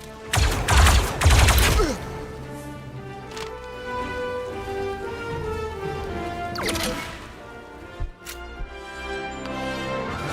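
Rapid burst of gunfire from the Star Wars Zero Company video game rattles loudly in the opening two seconds, followed by quieter game effects and a few sharp impacts over a sustained background tone.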